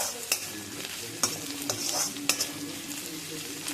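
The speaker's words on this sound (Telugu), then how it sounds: "ఉల్లిపాయలు నూనెలో చక్కగా మగ్గిపోయింది అన్నమాట." Onions frying in oil for mutton fry, a steady close sizzle broken by sharp scrapes and clinks of a spoon stirring against the pan.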